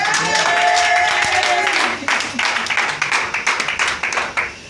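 A church congregation claps and cheers for the Lord during a sermon on spiritual anointing, loud mixed voices and whoops at first, then thinning into sharp, irregular handclaps.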